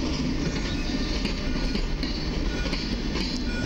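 An Express Intercity Premium passenger train rumbles steadily nearby, loud and continuous, with rhythmic wheel clatter over the rails and no voices.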